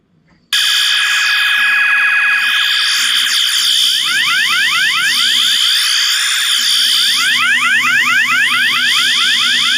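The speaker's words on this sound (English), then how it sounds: "Those alarms are way too loud." Car alarms wail in a city-building game, a loud, continuous electronic blare with rapidly repeating sweeping tones that runs for the whole stretch with no talking.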